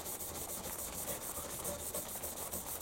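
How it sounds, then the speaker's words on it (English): A medium brown Scotch-Brite pad is rubbed back and forth across a surface in quick rhythmic strokes, a close, even scratchy rasp with no talk. "And then I've got a medium Scotch-Brite, which is a brown one in my case. So I'll do the same thing again."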